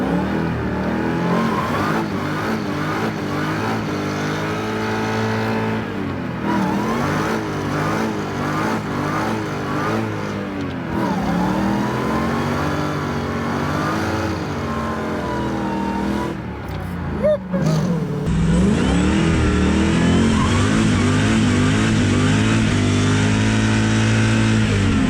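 A Mazda Miata with a Hellcat engine roars through a burnout, a loud rising and falling engine howl with surging revs and tire noise, continuing near and powerful for about twenty-five seconds.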